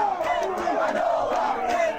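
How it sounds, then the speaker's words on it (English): Wrestling crowd in Ohio at a SummerSlam event, a dense wash of cheering and yelling voices holding steady and loud throughout, with no single speaker standing out. "that little Ohio crowd was low-key going kind of crazy, though"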